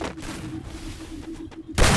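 M1887 shotgun fire in a video game, with a dense rumble of gunfire throughout and a loud blast breaking out at the very end.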